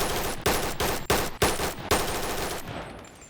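M4A1 automatic rifle fire in the VR game BONELAB: several rapid bursts of loud, dense gunshots separated by brief pauses, ending in a fading tail.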